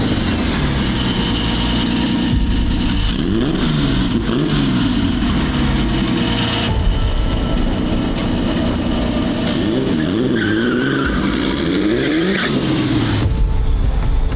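A Porsche accelerating on the road, engine tone rising and falling through repeated revving sweeps, loud and close with steady road noise underneath.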